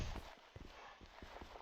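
Horse hooves clip-clop in a steady walking rhythm in a video game, quiet and muffled under faint background noise.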